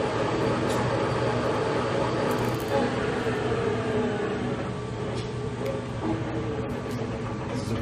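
A Victor 7080DCL large-bore lathe with a 4-geared headstock runs in third gear at about 80 RPM, giving a steady, loud mechanical drone and rumble throughout, close by.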